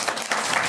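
A kirtan audience breaks into applause, a dense, steady wash of hand claps that holds at an even level through the short moment with no voice on top.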